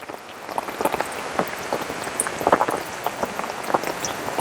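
Rain falling steadily, a dense patter of drops on surfaces with scattered sharper splashes, moderately close and continuous.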